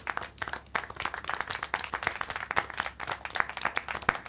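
Loud, dense applause with many hands clapping continuously in Syberia: The World Before, sustained throughout with no voices.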